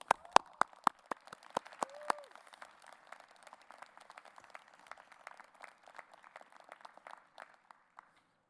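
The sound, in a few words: commencement audience applause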